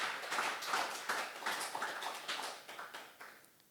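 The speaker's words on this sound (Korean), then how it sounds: "뜨겁게 하나님께 감사의 박수를 치시기 바랍니다." A church congregation clapping in thanks during a sermon, a quiet, fairly steady rhythmic clapping that gradually fades, with no voices over it.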